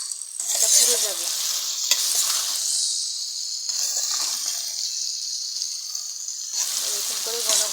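Bitter gourd coated with egg frying in a pan over low heat, a loud crackling sizzle that swells and eases in bursts as pieces are stirred and turned, with a voice talking over it.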